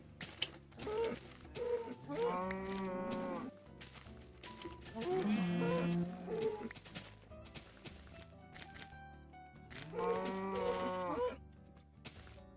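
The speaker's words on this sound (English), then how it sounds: "the cows sound a lot more in pain than they do in the in the current version" Cows in the video game Minecraft moo three times in long, drawn-out, groaning calls spaced a few seconds apart, moderately loud and alone, with quieter pauses between.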